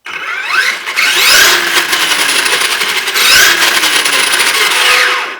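Traxxas Summit RC truck's electric motor whining under throttle in two rising-and-falling bursts, with a high-pitched motor whine and gear noise, close and fairly loud.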